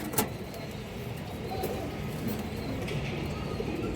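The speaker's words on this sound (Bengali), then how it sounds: "সবুজ গলা নর কবুতর খুবই ছটফটা কবুতর" A restless green-necked male domestic pigeon coos faintly among market or loft background noise, with a sharp tap near the start and soft scattered clicks.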